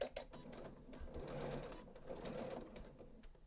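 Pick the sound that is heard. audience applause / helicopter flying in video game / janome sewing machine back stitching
janome sewing machine back stitching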